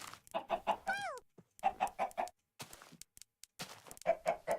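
Chickens in the Minecraft video game cluck in quick repeated bursts, close and clear, with short pauses between the runs of clucks and no talking.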